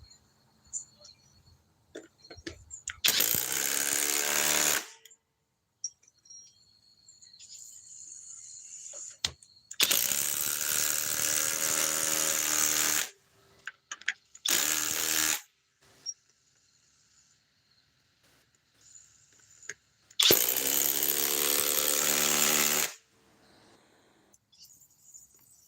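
Compact impact driver fitted with a quick-eject socket, spinning up in several loud, near bursts of high whirring a few seconds each, separated by quiet gaps with faint handling noise.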